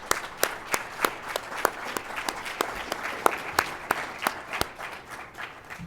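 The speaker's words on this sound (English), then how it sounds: "So let's give a round of applause" Audience applause at an evening university strategic management showcase, a moderate indoor crowd clapping steadily with sharp individual claps standing out throughout.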